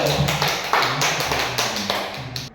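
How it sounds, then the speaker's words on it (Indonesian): A small group in a special-needs classroom claps for a pupil named Zikri, a handful of sharp claps landing in an even, steady rhythm at close range, with no talking over them. "kasih aplaus untuk Zikri"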